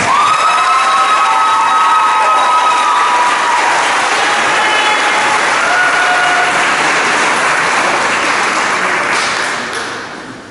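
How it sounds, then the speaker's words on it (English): Sustained applause from a large crowd at a senior awards ceremony, with cheering and some whistles, steady and loud for about ten seconds before starting to fade. "Give them a big round of applause."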